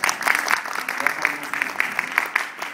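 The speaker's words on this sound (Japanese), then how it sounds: "本物マジック大使と拍手してください。" A street audience claps for a Japanese street magician's act, a quick uneven patter of hands close by, steady for a few seconds with sharper bursts scattered through it.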